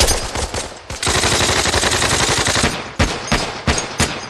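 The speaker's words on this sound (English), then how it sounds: "Commence fire!" Gunfire at a military training exercise, with a few loud close shots, then a long sustained burst of rapid automatic fire, followed by several more sharp single cracks.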